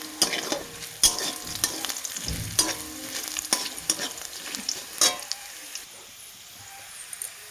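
Onions frying with a little salt in a pan, a bright continuous sizzle with repeated spatula scrapes and taps against the metal, easing off toward the end.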